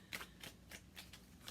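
Tarot cards are shuffled by hand in a quiet room, a run of about six soft riffling bursts in a steady rhythm, faint and close, with no voices.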